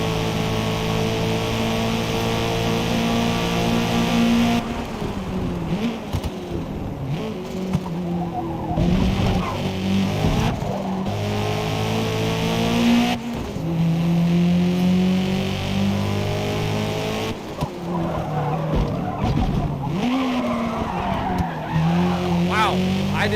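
A race car in the video game Forza Motorsport revs loudly and downshifts, its engine pitch sweeping up and down with repeated tire squeals and skidding, continuous and close, while a player talks throughout.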